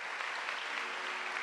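Steady audience applause at a church gathering, a dense wash of clapping at a moderate distance with no pauses.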